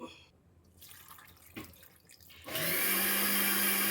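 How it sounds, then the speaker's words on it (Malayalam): After a couple of quiet seconds with faint kitchen knocks, water suddenly gushes steadily and loudly into a cooking pot of vegetables, a close, continuous pour without speech. "കുറച്ച് വെള്ളം ഒഴിച്ച് അടുപ്പത്ത് വയ്ക്കാം"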